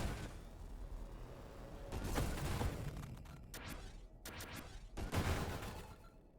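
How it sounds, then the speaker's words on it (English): Railgun explosions in the space shooter game Nova Drift burst in quick, uneven clusters, faint, crackling blasts rising and fading over one another with no voices. "Beefed up railgun explosions."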